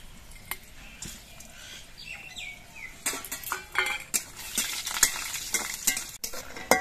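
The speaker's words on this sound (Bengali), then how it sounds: "কড়াইয়ে সর্ষের তেলটা গরম হয়ে যাওয়ার পর আমি ডালের বড়িগুলো তেলের মধ্যে দিয়ে ভেজে নিচ্ছি।" Lentil vadis (bori) fry in hot mustard oil in a wok, a soft crackle with scraping and stirring clatter that grows louder and busier in the second half.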